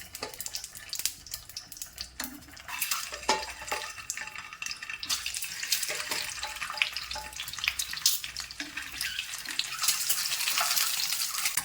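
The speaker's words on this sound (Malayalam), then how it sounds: "ഇനി മുട്ടയിട്ട് ഒന്ന് ഫ്രൈ ചെയ്തെടുക്കാം" Eggs frying in sunflower oil in a hot pan, a moderate sizzle mixed with stirring clatter and brief watery splashes, rising toward the end.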